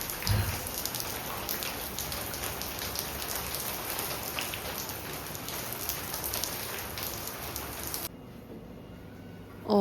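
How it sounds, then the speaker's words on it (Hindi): Heavy rain pours steadily onto outdoor surfaces as a downpour sets in, a dense, even hiss of drops that cuts off abruptly near the end. "ये देखिए कितनी ज़बरदस्त बारिश स्टार्ट हो चुकी है।"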